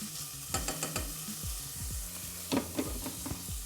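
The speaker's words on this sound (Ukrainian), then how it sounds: "Ось так помішуємо це все діло" Food for a Hutsul-style bograch stew sizzles steadily in a pan while a utensil stirs and scrapes it in a series of repeated strokes, close up and clear.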